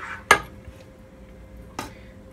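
A spoon or fork taps a cooking pot of vegetables in water while making thiep blanc with chicken: two sharp, close metallic clinks about a second and a half apart over quiet kitchen background.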